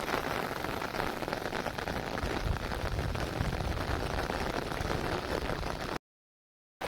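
Steady rain falls on a dam during a fishing outing, a dense, even hiss of drops close by with no voices, cutting to silence near the end.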